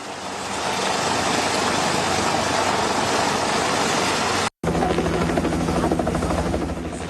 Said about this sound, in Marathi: हवाई दलाच्या हेलिकॉप्टरनं काही स्थानिकांना रेस्क्यू केले